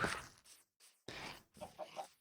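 Chickens cluck inside a chicken coop beside a red barn in a video game world, a few soft, quiet clucks and short bursts coming in separate groups with brief silent gaps between them.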